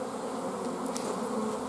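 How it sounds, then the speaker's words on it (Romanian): A honey bee swarm pours out of a hive in the rain, giving a steady, dense buzzing drone from many bees close by, continuous and even throughout, with no voices. "se îmbracă cu albine aici"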